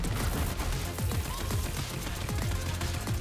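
Dense, continuous gunfire from the video game Borderlands 3 in a Maliwan Takedown run, with rapid overlapping shots and a steady loud din and no voices.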